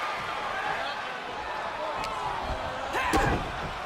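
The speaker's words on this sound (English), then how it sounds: "Choke slam right into the knee." A chokeslam lands in a WWE 2K wrestling video game match, a dull thud of impact around the three-second mark, set against steady crowd noise and commentary talk.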